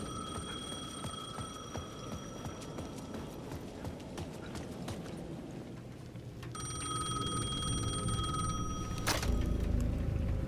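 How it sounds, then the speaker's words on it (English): A payphone in the video game Alan Wake 2 rings with a bright, repeated bell tone in two bursts, the first fairly steady and the second after a pause, over a low rumbling game ambience with clattering noises. "The payphone at the edge of the plaza was ringing again."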